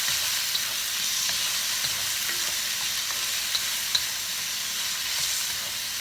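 Fresh garden tomatoes go into a frying pan of sautéed shrimp, giving a continuous, dense sizzle with faint scrapes and taps of stirring, close and steady, with no voices.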